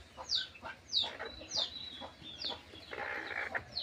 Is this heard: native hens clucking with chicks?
yes